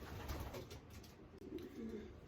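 Pigeon hens cooing softly nearby during leg banding, a few low throaty coos in loose succession with light handling noise.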